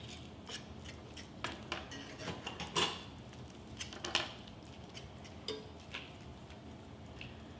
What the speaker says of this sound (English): But let me cut this tomato here.